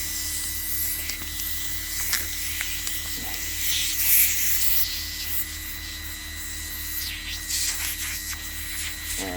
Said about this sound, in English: it blows air through this nozzle and gets the debris away from the lens